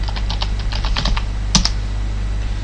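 Fingers typing a password on a computer keyboard during a Linux install, a quick run of close, crisp key clicks followed by a firmer double keystroke over a steady low hum.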